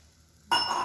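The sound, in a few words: water being added to eggplant mixture in pan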